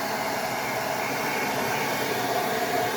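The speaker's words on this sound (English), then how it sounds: "I take my blow dryer and a cool shot" A blow dryer on its cool shot setting blows a steady, loud, even rush of air, used to dry a stick-on wall tile.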